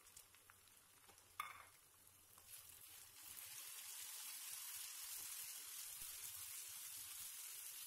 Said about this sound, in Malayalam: അഞ്ച് മിനിറ്റോളം ഉള്ളി നല്ലതുപോലെ ഫ്രൈ ചെയ്തതിന് ശേഷം